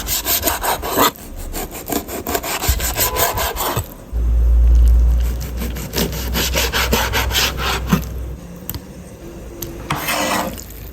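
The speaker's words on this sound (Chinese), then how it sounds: "现在处理鱼肉，鱼肉上的鱼骨剔下来，开始片鱼片儿。" A knife slicing fillets from a grass carp on a board, with rapid repeated rasping strokes in quick rhythmic bursts, close and fairly loud, broken by a brief low thump and pauses between runs of cuts.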